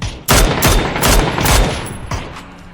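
Rapid bursts of automatic gunfire in the battle royale game PUBG, several loud volleys in quick succession with short gaps, close and dominant.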